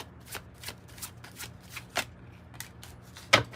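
Tarot cards from a 108-card deck riffled and shuffled close up, a quick series of soft flicking snaps ending in a sharper slap, with no talk.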